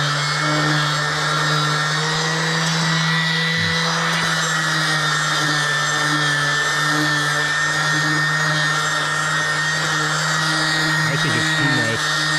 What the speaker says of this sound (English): Have this electric sander here